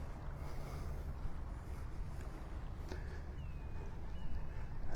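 Far-off boat engine drone holds low and steady off a North Naples beach, blended with wind buffeting and soft surf, growing slightly stronger toward the end, with no speech.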